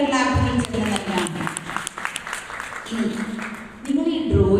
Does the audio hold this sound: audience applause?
yes